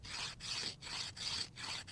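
Basalt stone scraping bark from a wooden atlatl dart shaft: steady, close, rough rasping strokes in a regular back-and-forth rhythm, about four passes with brief pauses between them, no voices.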